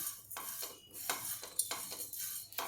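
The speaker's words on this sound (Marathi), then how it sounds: "थोडंसं अजून थोडंसं भाजून घेते मग हे धणे आपण काढून घेऊ" Coriander seeds dry-roasting in a pan are stirred in quick, regular scraping strokes, about two per second, soft and close with a faint dry rattle.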